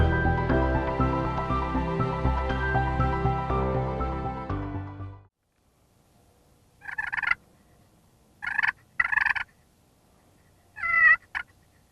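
On a turkey hunt, a wild hen turkey gives several short, clipped calls in brief clusters after a stretch of music fades to quiet, the calls fairly faint and with no talk.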